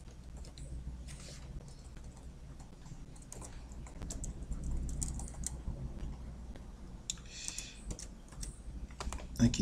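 Typing on a computer keyboard while a CV is prepared, a steady stream of soft clicks and occasional louder key strikes at close range over a low background hum, with no talk.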